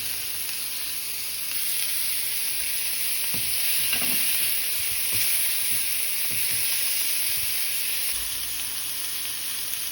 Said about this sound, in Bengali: বেশি কড়া করে ভাজবো না, হালকা করে ভেজে নিয়েছি